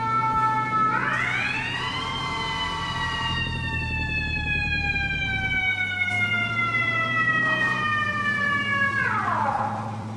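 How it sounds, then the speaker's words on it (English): An emergency vehicle siren in the video game EmergeNYC wails loud and close, sweeping up, holding a steady tone, then sliding back down over an engine rumble. "you can control the air horn and sirens"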